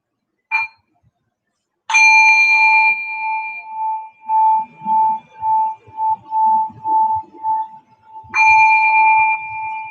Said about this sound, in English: I'll ring the bell twice to end the meditation.